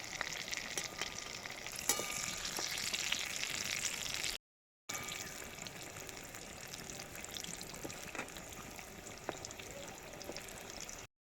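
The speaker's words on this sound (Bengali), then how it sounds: "দেখুন কত সুন্দর সোনালি সোনালি করে ভাজা হয়েছে।" Banana flower and lentil pakoras frying in hot oil, a soft continuous bubbling sizzle with occasional light clicks, briefly cut to silence partway through.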